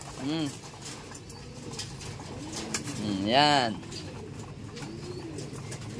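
Racing pigeons coo at feeding time in a loft, soft repeated rolling coos close by with one louder call in the middle, while someone speaks briefly over the birds.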